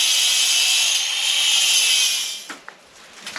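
An angle grinder cuts into soft stone during a property renovation in Portugal, a loud steady high-pitched grinding whine held close for over two seconds before it winds down and stops, leaving a few faint knocks.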